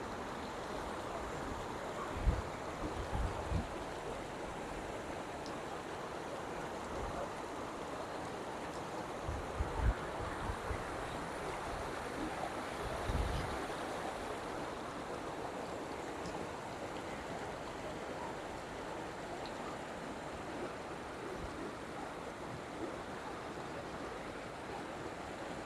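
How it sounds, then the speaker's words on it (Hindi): Steady rushing water pours between large rocks in a constant roar, with a few soft knocks and a touch of wind noise along the way; recorded at Kala Pani, Thandiani, near Abbottabad. "पानी की आवाज़ सुन सकते हैं आप इस वक्त।"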